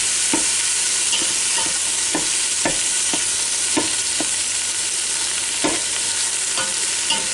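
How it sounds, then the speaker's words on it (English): Ground beef sizzles steadily in a Ninja Foodi pot while a crusher masher stirs and breaks it up, with repeated scraping, tapping strokes sounding over the constant loud frying hiss. "What I'll do without this crusher masher."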